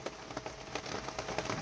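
Rain falls steadily at a flooded campsite in Occoneechee State Park, a close, even patter of drops on surfaces with scattered louder taps, no talking.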